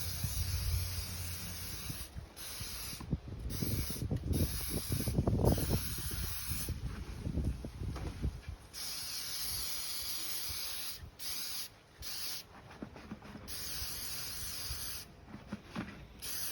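Kiwi boot waterproofer sprayed onto Wolverine Wellington boots in repeated short hissing bursts of aerosol, close and fairly quiet, separated by brief pauses.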